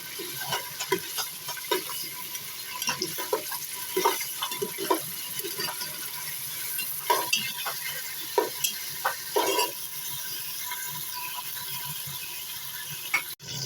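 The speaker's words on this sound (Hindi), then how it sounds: "मैंने इसमें गोश्त डाल दिया। इसको भी भून लेते हैं ताकि इसका कलर चेंज हो जाए।" Mutton frying in ghee with black pepper, cloves and cardamom in a pressure cooker: continuous close sizzling broken by irregular clatters and scrapes of a spoon stirring the meat, fairly loud, no talking.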